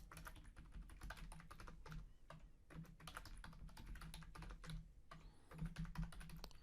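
Someone types a password on a computer keyboard, a quiet close run of quick clicking keystrokes in short bursts with brief pauses, no talking.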